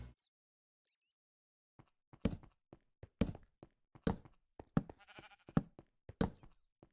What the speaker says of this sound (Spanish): ¿Y tú qué, ovejita?